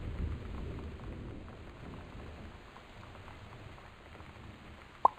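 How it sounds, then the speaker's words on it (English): Steady rain pours with a low thunder rumble rolling through in the Gone Home video game, continuous and fairly close, closing with a brief sharp click. "That's thunder, right? It's not like a growling monster."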